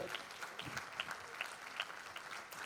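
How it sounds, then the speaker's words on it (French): Audience applause at a keynote event, a quiet, fairly distant patter of clapping with scattered sharper claps and a faint hint of crowd voices underneath. "On applaudit."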